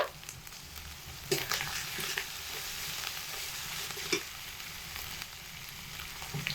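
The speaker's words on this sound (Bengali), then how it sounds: "পেঁয়াজ রসুন একসাথে খুব ভালোভাবে কষিয়ে নিচ্ছি এবার এর মধ্যে জিরে বাটা দিয়ে দিচ্ছি আদা বাটা" Onion and garlic sauté in a pan with cumin and ginger paste, a quiet, steady sizzle broken by scraping stirs and a few clinks of the spoon against the pan.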